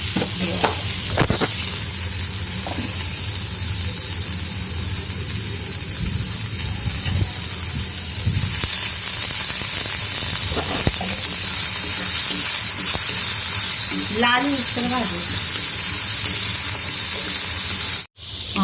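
Chopped onion fries with oil and a pinch of salt in a pan, a loud, continuous sizzle and hiss with occasional stirring scrapes, and no voices.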